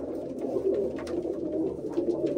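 Several pigeons coo in a low, continuous murmur from a loft of male pigeons, the rolling calls overlapping steadily throughout with no talking.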